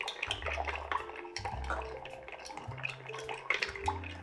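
Ice clinks and rattles steadily against a mixing glass as a martini of dry vermouth and gin is stirred, a close, quiet and continuous swirl with no talking.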